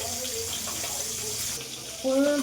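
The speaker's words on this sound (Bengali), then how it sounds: "এবার পরিমাণ মতো একটু জল দিয়ে দেবো" Water pours briefly into a pressure cooker holding kohlrabi and potatoes, a close, steady splashing rush that grows louder and fuller near the end.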